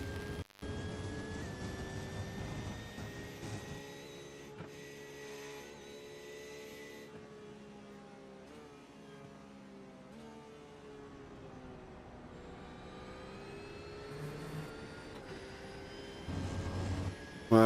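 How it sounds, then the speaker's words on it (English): A Porsche GT3 race car in a racing video game holds a sustained high-pitched engine whine and whistle in sixth gear, a steady tonal drone that shifts pitch slightly as it runs, with no talk over it. "listen to the 6th gear whistle. There it is, that high-pitched whistle of that Porsche in 6th gear."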